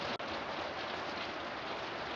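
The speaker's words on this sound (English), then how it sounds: "This is about a half an hour later, and we've got some good rain." Steady rain pours in Long Beach, a dense, even hiss of falling water that stays loud and unbroken throughout, with one tiny click near the start.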